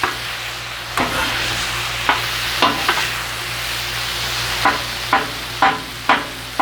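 Trader Joe's soba noodle and vegetable stir fry sizzles steadily on a Blackstone griddle while a spatula scrapes and turns it in repeated sharp strokes, loud and close, no voices.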